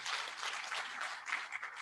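Audience applause at an International Women's Day celebration at the Kenya School of Government in Nairobi, a steady crowd clapping that stays fairly faint and continuous, with no talk over it.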